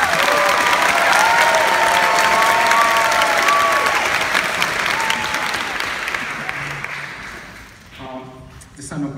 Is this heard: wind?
no